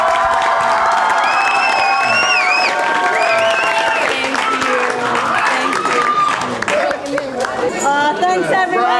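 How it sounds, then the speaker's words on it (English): Audience applause and cheering for teachers after a school musical, a busy crowd wash of clapping mixed with chatter and high excited voices, loud and continuous with overlapping talk. "I think our teachers here particularly deserve another round of applause."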